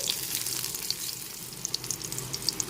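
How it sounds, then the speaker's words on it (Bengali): Hog plum pieces fry and sizzle in a pan as they are stirred, a dense bright crackle with small sharp pops and quick scrapes over a short stretch, close and fairly loud. "দু মিনিট মতো নেড়ে চেড়ে ভেজে নিচ্ছি"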